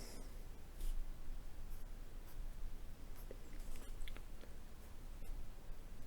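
A pen scratches steadily across paper while a dungeon room is drawn on a map grid, a soft continuous scribbling with small strokes, close and quiet, alone without voices.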